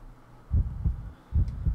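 Low, muffled heartbeat from the health indicator in Resident Evil Outbreak, two double thumps in a steady lub-dub rhythm, close and soft.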